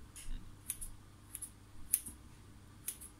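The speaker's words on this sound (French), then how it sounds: "je vais faire une petite décoration avec le ciseau là" Scissors snip brioche dough into a small decoration, four faint, crisp snips spaced irregularly in a quiet kitchen.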